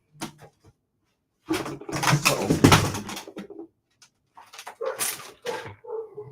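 A dog barks and whimpers indoors close by, a burst of rough agitated yelps and growls lasting a couple of seconds, then further short barks and whines after a pause.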